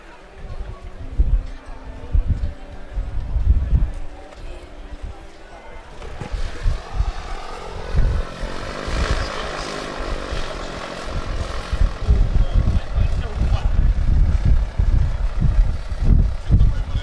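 Two Piper propeller airplanes fly a two-ship airshow display, their engine drone rising and falling as they pass, growing louder toward the end, with a commentator talking over the noise.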